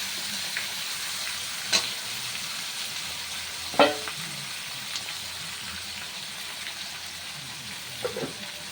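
Mutton curry cooks in a pan with a steady close sizzle and bubbling, broken by a few sharp scrapes and knocks from stirring, with no voices.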